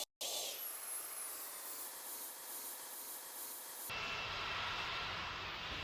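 Airbus A340 jet engines spooling up on a takeoff roll in a flight simulator game, a loud steady roar with hiss that swells partway through, no talking.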